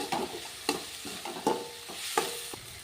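Spices fry and sizzle in a pan for tomato rice, with curry leaves and coriander, while a spoon stirs and scrapes in close, regular strokes about every two-thirds of a second.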